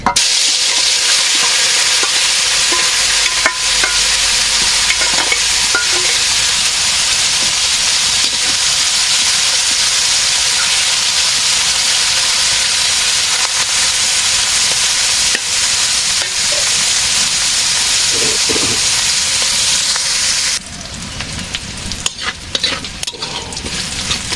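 Onions fry in a pan on a village kitchen stove, giving a loud, steady, dense sizzle that runs unbroken throughout, with a few stirring scrapes and a brief drop in intensity near the end.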